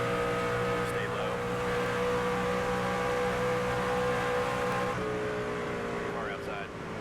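Steady race car engine drone from the NASCAR 25 game, loud and close, a sustained high-revving tone holding nearly constant with slight pitch shifts as other cars run alongside.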